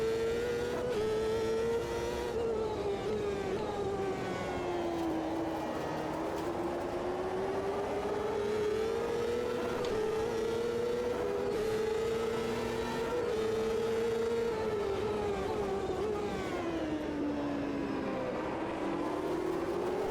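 A Reynard 98i Ford open-wheel race car engine at Watkins Glen in Automobilista 2 holds a steady high-pitched drone for the whole stretch, its pitch rising and dipping gently through gear changes and corners, loud and continuous with no talking.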